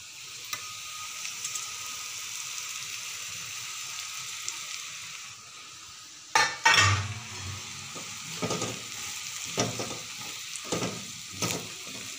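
Chapati churma is stir-fried in a pan with a continuous frying sizzle, broken partway through by a loud clatter as it goes in, then rhythmic scraping strokes of the spatula.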